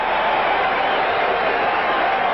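A football stadium crowd cheers loudly and steadily as Reggie White of the Eagles rouses the fans during a 1987 Cowboys versus Eagles game, a dense, unbroken roar with no breaks.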